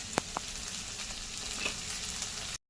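Onions for kande pohe fry in a pan over a medium flame, making a steady, close crackling sizzle with a couple of brief sharp pops before it cuts off.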